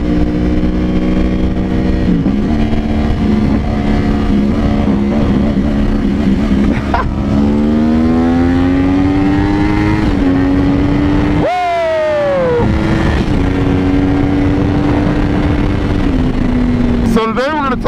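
A 2003 Honda CBR600RR motorcycle accelerates hard and close, its engine note climbing steadily through several gears with brief dips at each shift, loud and continuous throughout.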